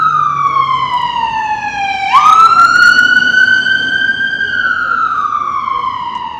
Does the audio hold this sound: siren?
yes